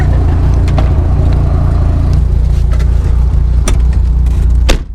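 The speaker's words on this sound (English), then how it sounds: "So now we're in CES FD RX-7, and this thing is insane." A Mazda RX-7 FD of about 400 horsepower driving through hilly Japanese touge roads, its engine a loud, steady low drone heard from inside the cabin, with a few sharp knocks near the end.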